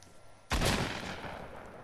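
A single sharp, loud burst of gunfire from the video game Fortnite cracks out suddenly and then rings off into a long decaying tail, with no voices over it.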